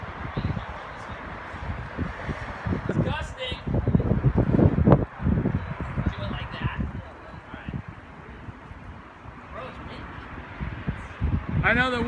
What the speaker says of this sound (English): I know the wind is not helping at all.